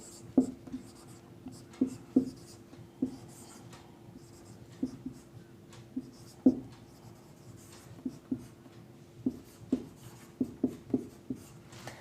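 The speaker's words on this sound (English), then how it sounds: "So suppose I write down one expression for you" Pen or chalk writing out an algebraic expression during a maths lesson on like and unlike terms, heard as a series of short scratchy strokes in irregular bursts, close and fairly quiet, with no talking.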